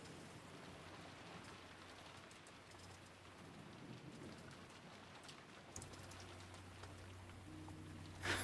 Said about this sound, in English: with only the sound of rain to be heard